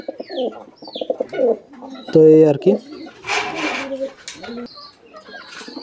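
Pet pigeons on a small hobby farm coo in low, throaty bursts close by, mixed with a sharp squawk, wing rustles and someone talking over them.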